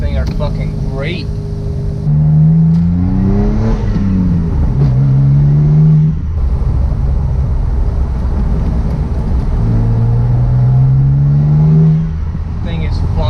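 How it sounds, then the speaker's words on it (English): A restored Mitsubishi 3000GT VR4 with a twin-turbo engine pulls hard on a drive, its engine note rising in two strong sweeps with a lull between, while people talk inside the car over the steady road and engine roar. "these turbos on this thing are fucking great"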